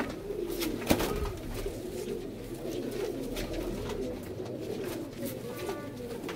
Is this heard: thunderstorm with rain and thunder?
no